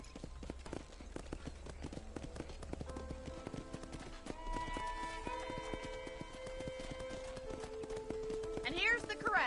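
Horse hooves clip-clop steadily in Red Dead Redemption, a brisk rhythmic trot over a faint background with tonal music, and a short whinny near the end; speech also occurs.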